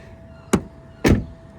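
A car's back door being opened on an electric vehicle at a fast charger in Ireland gives two sharp mechanical clunks about half a second apart, close and loud against a quiet background.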